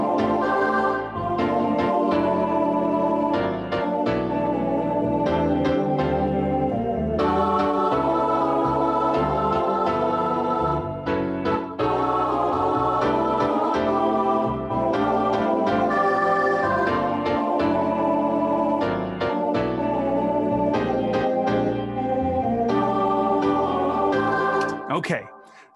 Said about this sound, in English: that's the sound you're hearing, the MIDI playback.